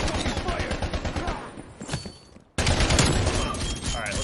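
Rapid, dense automatic gunfire and explosions from the video game Call of Duty Cold War, a loud clattering barrage that briefly drops out and then resumes just as intensely.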